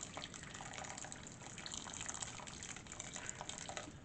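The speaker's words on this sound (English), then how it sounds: "I'm going to add some more water because I want to cover the broccoli." Water pours into a pot of broccoli in a home kitchen, a faint, steady splashing and trickling that runs on without talk.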